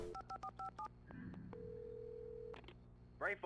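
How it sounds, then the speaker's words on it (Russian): Telephone sounds in the video game Alan Wake, a quick run of dial-tone beeps followed by a steady tone, quiet and heard alone before a brief voice at the end. "О, телефон."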